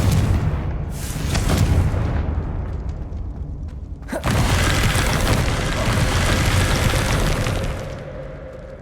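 The Confringo fire spell bursts in Hogwarts Legacy with a sharp, loud boom near the middle. A rumbling, crackling roar follows and keeps going after an earlier stretch of blasts and rumble.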